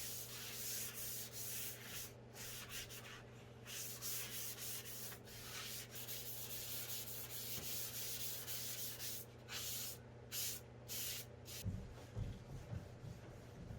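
Steady abrasive rubbing of sandpaper against primed, painted wooden furniture, continuous and close, with a constant low hum underneath and a few brief bumps near the end.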